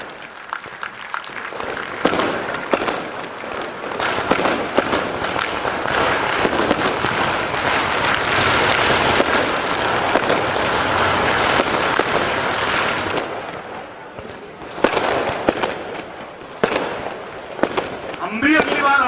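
Firecrackers crackle in dense, rapid bursts at an outdoor celebration of NTSE selections, loud and sustained for over ten seconds before thinning into scattered pops, with crowd noise and voices mixed in.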